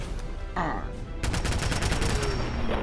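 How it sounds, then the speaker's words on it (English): Rapid bursts of MG42 machine-gun fire in Fallout 4, loud and close, coming in sustained rattling volleys over dense background game noise. "grabbed the MG42 and let her rip"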